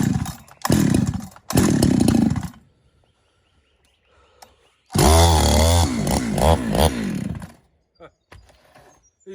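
Ported Husqvarna 365 chainsaw with a 52mm kit and a 372 X-Torq carburetor cutting timber, loud close bursts of high revving and cutting with pauses of idle between them, plus a stretch of talk.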